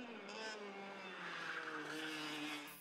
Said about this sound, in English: The sound of screeching brakes and crossing the finish line first.